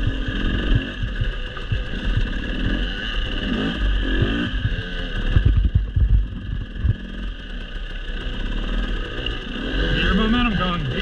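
A motorcycle riding over rocks, its engine throbbing and revving in uneven bursts as the rider works the clutch, close and fairly loud under frequent spoken coaching.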